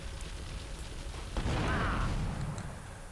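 Explosion in GTA Liberty City Stories, set off by the player while attacking a munitions truck. A sudden broad blast hits midway and rolls into a sustained roar that lingers and slowly fades over steady background game noise.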